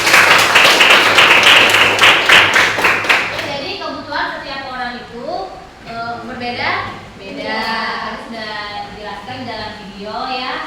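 A classroom of students claps for a classmate, a loud burst of applause lasting about three seconds that fades out as a teacher begins speaking.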